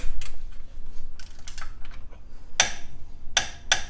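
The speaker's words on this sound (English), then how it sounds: "I'm going to torque the bottom one first to 15 foot-pounds" A torque wrench clicks sharply as it reaches 15 foot-pounds on the lower ball joint nut of a Jeep JL Rubicon's Dana 44 front axle, with three crisp clicks near the end following quieter ticking and shop noise.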